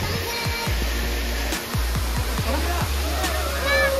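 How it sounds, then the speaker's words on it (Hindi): Rushing water at Nag Pahar waterfall near Pushkar, Ajmer: a steady broad roar of falling water close by, with low wind-like thumps against the microphone throughout. "पानी भाई बहुत ही ज़्यादा तेज चल रहा है इधर देखो।"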